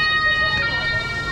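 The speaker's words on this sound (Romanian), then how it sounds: "Ia uite, a venit salvarea." An ambulance siren arriving at Gardaland amusement park, holding steady high tones throughout amid a broad wash of crowd and outdoor noise.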